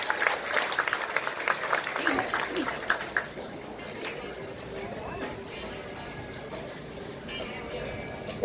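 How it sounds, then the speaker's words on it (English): Rodeo crowd at the Cowpunchers Reunion Rodeo opening ceremony applauding for Ed Ashurst, a broad wash of clapping that fades after a few seconds with some background noise. "Would you give him a round of applause"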